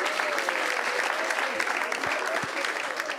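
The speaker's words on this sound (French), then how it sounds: "On l'applaudit." An audience bursts into dense, continuous applause that fills the room and holds steady for a few seconds before cutting off abruptly.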